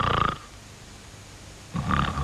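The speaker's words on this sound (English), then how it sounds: "He was snoring." A cartoon character, Mr. Noisy from the original Mr. Men TV series, lets out loud, growling snores, two deep rumbling bursts separated by a quiet pause.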